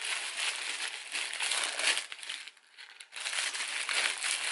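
New Burger King cheeseburger being unwrapped, close crisp crinkling and rustling of its paper wrapper, continuous apart from a brief pause midway before the crackling resumes.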